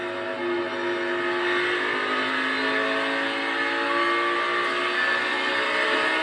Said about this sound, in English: You heard how quick that downshift was